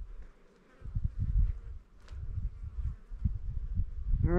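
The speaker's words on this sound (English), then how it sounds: "There's a lot of bees and stuff." Low, droning buzz of bees that rises and fades, close by on a trail at the Kinishba Ruins, with brief quieter gaps and no talking.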